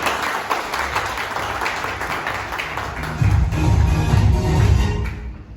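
A seated crowd in a hotel-style hall claps for an academy at a business event, a broad wash of applause that swells louder near the end and then cuts off abruptly.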